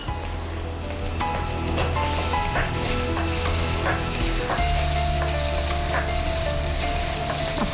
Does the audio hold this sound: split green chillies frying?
yes